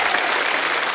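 Dense, loud applause from a comedy-show audience cheering the comedians, a continuous wash of clapping with no voices over it.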